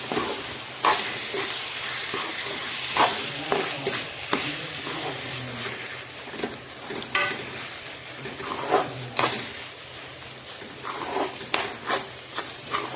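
Carrot halwa with dry fruits and cardamom powder being stirred and roasted in a pan, with a steady soft sizzle and hiss under repeated scraping stir strokes that come at irregular intervals, with no talking.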